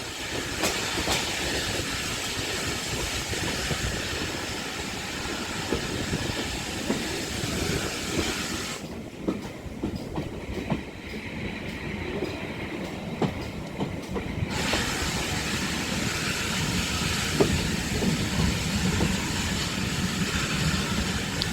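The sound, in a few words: train on the West Somerset Railway arriving at Dunster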